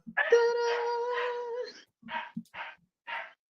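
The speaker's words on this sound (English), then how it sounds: "Was that the dog bark?" A dog gives a drawn-out whining howl followed by a few short barks or yips, close and clear, with silent gaps between them.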